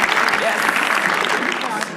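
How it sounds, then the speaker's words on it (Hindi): Comedy show audience clapping to welcome the next act, a dense burst of applause throughout with a few voices mixed in. "तालियां इनके लिए."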